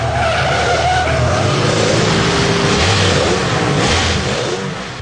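A Nissan street car driven hard on a racetrack by a racing school instructor, loud engine revving and shifting with sharp tire squeal and skidding throughout, close and continuous.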